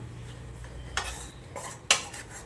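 A spoon scrapes and clinks against a metal pan while stirring egg rice, a few distinct scraping strokes and one sharp clank, close and fairly quiet over a low background hum.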